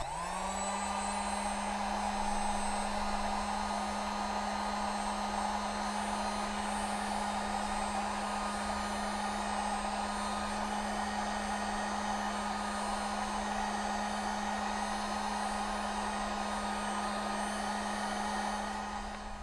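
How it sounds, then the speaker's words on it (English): Hair dryer blowing heat onto a ring mark on a work table, a steady, loud whirring drone that holds unchanged for about twenty seconds without any talk. "So what happens if we put a little heat to it?"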